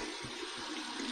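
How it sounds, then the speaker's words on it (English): Cold water from a tap running steadily over an alum block, a continuous close splashing flow with no speech. "We're going to go ahead and run this in the cold water"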